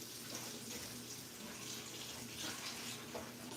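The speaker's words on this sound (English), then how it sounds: "I'm just washing out the bowls and everything" Running tap water pours steadily as bowls are washed under it at a kitchen sink, a constant, faint splashing hiss with no speech.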